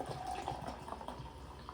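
Seagram's Escapes Spiked Pineapple Powerhouse, a flavored malt drink, poured into a glass, giving a soft, continuous trickle and fizz heard close and faint.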